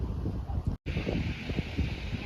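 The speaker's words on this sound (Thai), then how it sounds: "ลมแรงมากเลยเย็นสบายนะครับ" Strong wind blowing at a hillside coffee shop in Phu Ruea, a steady broadband rush with mic buffeting that runs throughout, broken by one very brief dropout, with no voices.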